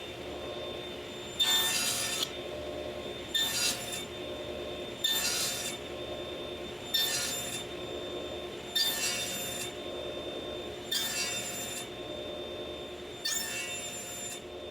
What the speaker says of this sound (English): I'm just going to hog this out with a single blade.